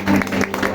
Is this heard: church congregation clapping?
yes